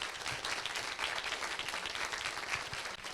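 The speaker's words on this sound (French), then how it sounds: "on peut les applaudir ici à Montpellier." An audience applauds at the closing ceremony of a game jam held in Montpellier, a dense, steady wash of clapping from many hands that holds its level throughout.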